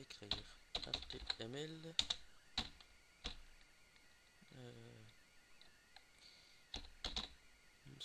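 Computer keyboard typing while entering HTML code, with bursts of quick keystrokes and pauses, under intermittent talk in French.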